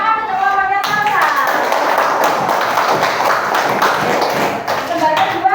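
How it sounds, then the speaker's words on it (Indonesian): A classroom of students claps for a classmate's group after their answers are checked, a dense burst of hand claps filling the room for several seconds, with voices mixed in. "Tepuk tangan untuk kelompoknya Salsa."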